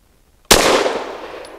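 After a moment of quiet, a Caracal Enhanced F pistol fires a single sharp, loud shot with nickel-plated Federal HST 124-grain ammunition. The crack rings out and then slowly decays.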